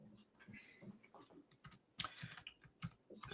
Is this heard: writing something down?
yes